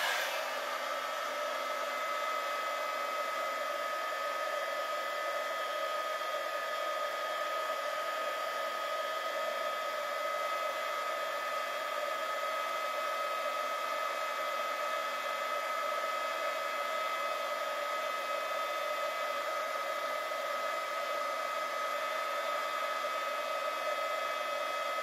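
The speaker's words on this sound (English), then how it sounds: "I'm going to heat this up, and then we can see what happens." A handheld heat tool for embossing warms glitter embossing powder on a craft project, giving a steady, loud, continuous fan-driven whir with a bright whine that runs unbroken throughout, with no talking.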